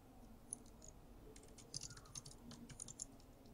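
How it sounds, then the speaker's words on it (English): Quick, fairly quiet keystrokes on a computer keyboard arrive in short irregular bursts, with a few sharper clicks among them. No voices are heard. "I'm just typing in the search Ministry of Power"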